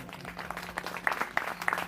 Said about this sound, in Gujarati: અમને તાળીથી વધાવો